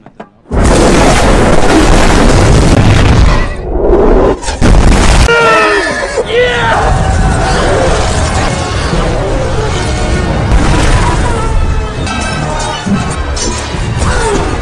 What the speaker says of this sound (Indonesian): dilanjutkan dengan dentuman meriam basilika. Perang besar pun dimulai.